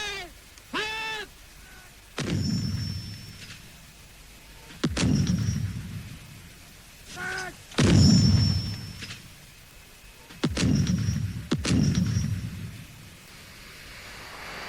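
Field artillery guns fire repeatedly during the Falklands War, several loud booming blasts spaced a second or two apart, each trailing off in a rumbling echo, with a brief shouted command between shots.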